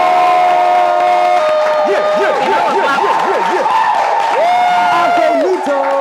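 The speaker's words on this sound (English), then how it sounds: "with a round of applause, give it up for Afronita!" A lively audience cheers and applauds a dance act introduction, loud whoops and shouted voices with wavering yells over continuous clapping and crowd noise.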